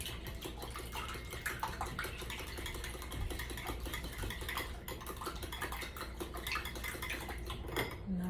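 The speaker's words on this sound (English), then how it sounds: "I'm gonna go ahead and beat my eggs. Okay, got my whisk." Eggs beaten with a whisk in a bowl for pecan pie tart filling, a rapid faint clattering of metal against the bowl that continues steadily throughout, with no talking.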